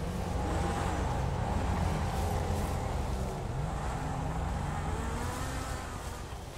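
Car engine in GTA 5 while driving, a loud sustained motor roar with shifting revs that gradually eases off toward the end, no talk.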